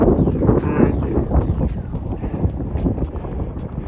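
Strong wind gusting over an exposed mountain summit, rough buffeting roar battering the microphone continuously, close and loud, with faint voices partly buried beneath.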